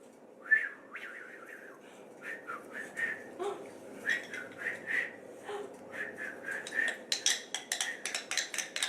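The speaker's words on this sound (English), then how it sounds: "Whistle, sure." Toy whistle blown in a classroom speech and language activity, a series of short shrill toots spaced irregularly, then a quicker burst of rapid blasts near the end, close and fairly loud.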